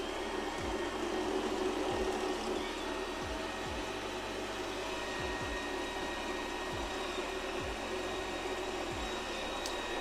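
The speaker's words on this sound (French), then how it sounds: "Donc là, il est vraiment en train d'aspirer très très fort" An Ultenic TS1 robot vacuum running at increased suction power on a bare floor gives a steady, loud whooshing roar with a faint electrical hum, holding constant with no talk for the whole stretch.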